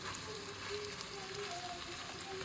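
Rice stir-frying in a pan with soy sauce for homemade mixed fried rice, a steady low sizzle with soft crackle throughout, no talking.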